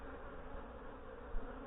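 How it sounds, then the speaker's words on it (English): Dense honey bees crowd the ends of the frames of a beehive that is still trying to swarm. A low, steady hum runs throughout with no pauses, faint and close, with a slight swell near the end. "There's so many bees on the ends of these frames"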